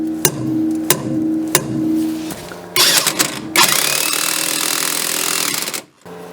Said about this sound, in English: This one needs to be seated a little more, so we're going to use a rubber mallet